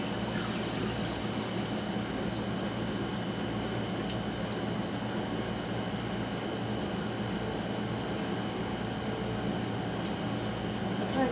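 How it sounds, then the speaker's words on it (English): Reduced elderberry syrup liquid strained out in batches, giving a steady, continuous wet pouring and trickling wash that runs alone at an even moderate level throughout, with no talk. "So I'm going to be straining this out."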